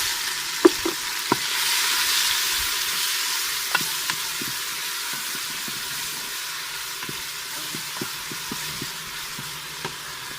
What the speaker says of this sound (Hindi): अभी हम डालेंगे सब इसमें मिक्स है, टमाटर, हरी मिर्च और लहसुन सब मिक्स है इसमें।